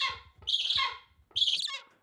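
A golden eagle kept for traditional hunting in a wintry Kyrgyz setting gives close, shrill calls: two loud, piercing cries with rough harmonics and a short fading tail, with no voices.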